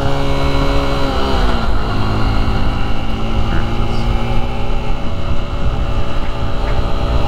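A Honda XR150L motorcycle ridden at high speed, its engine droning loud and steady with a shifting pitch under heavy wind rush, heard from the rider's position with no talk.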